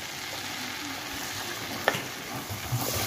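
Flour cooking in ghee for a sweet béchamel gives a soft, steady sizzle throughout, with one brief stir or scrape near the middle and no talking.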